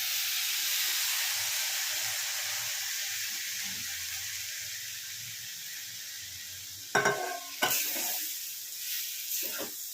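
Rice for basanti pulao, tinted with turmeric, frying in a pan: a continuous hissing sizzle that slowly fades, then a few sharp bursts of stirring clatter near the end.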